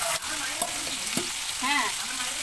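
Potatoes drop into hot oil seasoned with whole cumin and bay leaf, a loud dense sizzle filling the moment with a few quick clinks of a utensil, close by.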